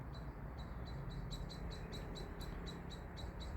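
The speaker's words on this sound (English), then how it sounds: "Birds in the background again, I love it." Evening birdsong in the background outdoors: a faint, rapid series of repeated high chirps over a steady low ambient hum.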